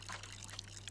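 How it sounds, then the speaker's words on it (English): Water poured from a can onto a freshly potted seed at a potting bench in the game Botany Manor, a soft brief trickle and splash lasting under a second over a steady low hum. "Add a bit of water."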